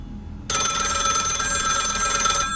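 A telephone rings in a horror video game, starting abruptly and holding loud and steady with a bright, buzzy electronic ring until it cuts off near the end, with no talking.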